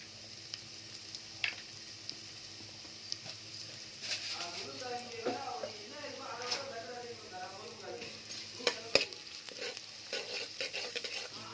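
Fenugreek and cumin seeds sizzle and crackle in a hot pan while a spoon scrapes and stirs, with a person talking over the frying.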